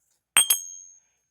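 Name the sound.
small hand bell ringing, used as a pendulum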